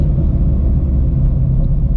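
A supercharged Ford Shelby GT350 drones loudly in a third-gear pull, its engine a heavy, steady low rumble heard from close inside or beside the car, with no talk over it.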